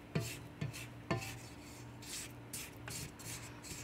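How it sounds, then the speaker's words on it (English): A spatula scrapes around the sides of a bowl of box brownie batter, giving repeated soft rubbing strokes with a few sharper scrapes, close and fairly quiet. "So I'm just going to scrape around the sides."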